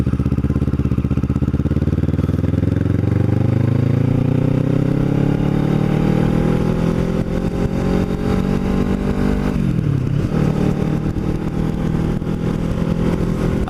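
A Kawasaki Ninja motorcycle engine drones loudly and steadily while the pitch climbs through the revs. A brief dip late on marks a gear change before it pulls again, all heard close from the rider's position.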